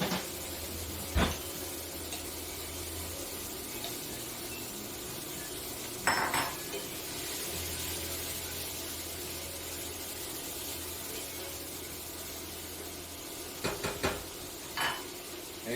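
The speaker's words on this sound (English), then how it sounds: "See that sizzle? That's what you can hear." Vegetables sizzle in a hot pan during a braised beef cook, with a continuous close frying hiss broken by occasional clinks and scrapes of a wooden spoon and cookware.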